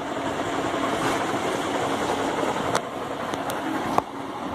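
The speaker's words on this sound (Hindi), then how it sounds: "इसको सिलाई कर ले रहे हैं।" An electric sewing machine runs continuously while stitching a garment for pahalwani kacha underwear, a steady whirring drone with a couple of sharp clicks, close by and with no talking.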